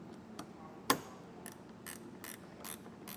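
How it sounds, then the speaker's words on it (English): A 9/16 wrench tightens the clamps of a Bestop Supertop collapsible bed cover on a 2020 truck, giving faint, sparse ratcheting clicks with one sharper snap in a quiet setting. "You're going to use a 9/16 wrench in order to tighten these up."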